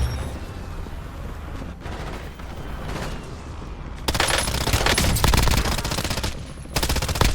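Video game gunfire erupts in dense automatic bursts, loud and close, with a brief lull before a heavier sustained volley and a final short burst.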